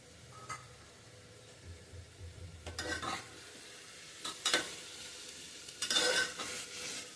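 Soaked masoor lentils sauté in a pan for pulao, a quiet sizzle beneath several bursts of spoon scraping and stirring.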